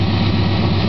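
A 1974 Dodge Coronet engine runs loud and close with a steady low rumble after a loose starter, no talk over it.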